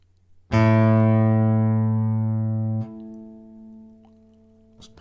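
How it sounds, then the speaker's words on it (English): One low piano note struck, then a rich sustained ring with many overtones that suddenly drops to a softer lingering hum of other strings. "all the other strings continue to sound like this"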